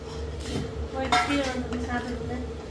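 Spoon scraping and clinking against a cooking pot as vegetable kurma is stirred, with close, uneven metallic knocks and scrapes over steady kitchen background while people talk nearby.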